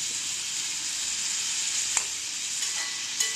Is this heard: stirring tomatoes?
yes